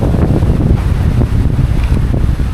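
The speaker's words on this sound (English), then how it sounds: "the wind has really picked up all of a sudden" Strong wind buffets the microphone in a steady, loud roar beside a river in Hue, with gusty low rumbling throughout and no voices.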